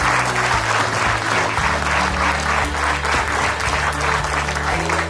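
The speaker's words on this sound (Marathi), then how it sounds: "हो द्या टाळ्या." An audience at a corporate training event applauding, dense continuous clapping from many hands filling the room, loud and steady throughout with a faint murmur of voices.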